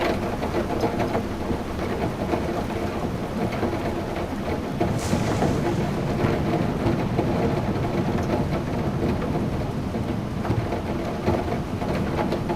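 Heavy rain pours in The Clearing video game, a dense steady roar of downpour with low rumbling thunder beneath and a brief sharper crack near the middle, no voices.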